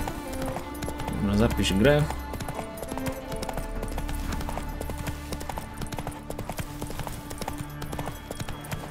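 Horse hooves clip-clop steadily in The Witcher 3, paced and close, with a short burst of louder activity early on and someone talking over them.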